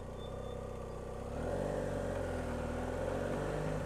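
A motorbike creeps through traffic on the clutch, its engine a steady low hum that grows a little louder and fuller partway through, heard close with no voices.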